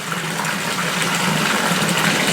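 Water is pumped out of a fish tank, giving a steady, close rushing gush that continues without break for a couple of seconds with no one talking.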